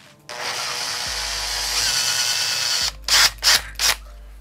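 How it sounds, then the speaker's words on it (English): A power drill runs in reverse to remove a stripped bolt, whirring steadily for a few seconds, then giving three short bursts in quick succession, close and loud, with no talking. "drill in reverse and then it should come straight out"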